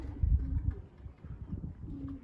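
Young racing pigeons coo in low, soft, throaty murmurs close by, with several overlapping burbling calls and some quiet shuffling.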